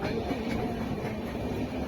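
A passenger train on the Visakhapatnam to Araku line runs through hilly valley country, giving a continuous low rumble and rattle of the carriages heard from on board, steady and unbroken.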